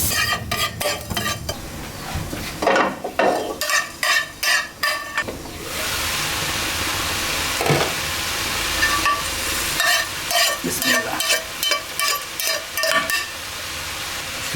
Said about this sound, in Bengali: এখন পাশের কড়াইতে পাঁচফোড়ন ভেজে নিয়ে দিয়ে দেবো ওখানে